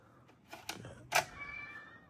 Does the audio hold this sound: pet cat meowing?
yes